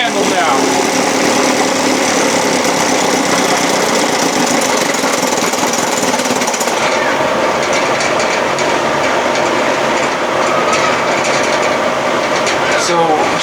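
Evinrude 7.5 outboard motor idling at shift, a steady close mechanical drone with a busy rattling texture that runs continuously and slightly changes character partway through.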